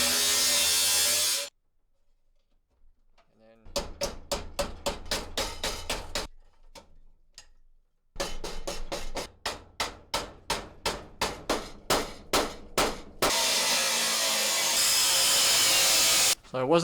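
Metal hammer blows on a flattened steel body panel from a 1974 Dodge Charger, two bursts of sharp, evenly spaced strikes close up, separated by a pause and framed by loud grinder-like noise before and after.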